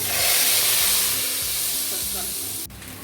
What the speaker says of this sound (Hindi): दाल को हमने तड़का लगा दिया है